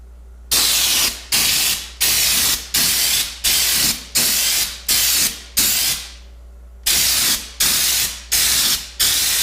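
Spray gun laying down tintable Raptor Liner bed liner coating during rust repair on a 1994 Ford F150, in loud, close bursts of hissing spray, each about half a second long, in a steady on-off rhythm with short gaps.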